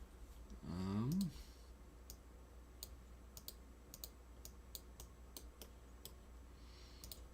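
Computer mouse clicks, a series of faint, sparse, evenly scattered taps in a quiet room after a brief murmur.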